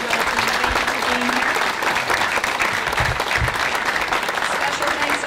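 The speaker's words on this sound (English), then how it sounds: "I think all these candidates deserve a great round of applause." An audience at a candidates' debate forum in Thunder Bay breaks into sustained, dense clapping that holds steady throughout, filling the room at even loudness.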